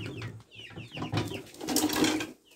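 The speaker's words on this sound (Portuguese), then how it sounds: "E esses pintos não para quieto, essas galinhas, gente." Chickens and chicks cluck and peep continuously in a backyard, several overlapping calls rising and falling close by, with no speech over them.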